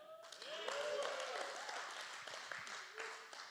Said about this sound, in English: Claps are good.